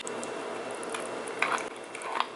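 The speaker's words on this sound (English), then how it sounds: "Slowly mix." Blondie batter is mixed slowly in a bowl, making soft wet squishing and stirring sounds with a few light scrapes and clinks of the utensil against the bowl, close up with no speech.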